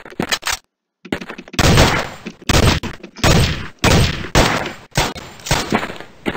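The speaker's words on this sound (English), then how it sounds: "How'd you dodge every single one of those bullets?" Video game gunfire from Gun Mayhem 2: loud, rapid bursts of shots and thumps coming in clustered volleys, separated by brief silent gaps.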